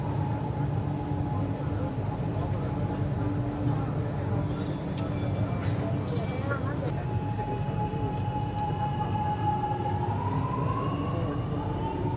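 Steady rumble and whine of a Chennai Metro train in motion near Vadapalani, heard from inside the carriage, with faint voices and a rising electric tone near the end.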